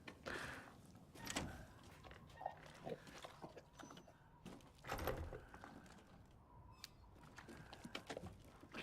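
Pig grunts from the Resident Evil Village video game, a few short snorting bursts amid in-game rustling and door-like thumps, moderately close, with no talk over them.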